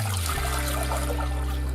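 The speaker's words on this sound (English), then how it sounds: "Take a saucepan, 1 liter of water," A liter of water streams into a saucepan in a home kitchen, a steady, loud, continuous pour with a low rumble underneath.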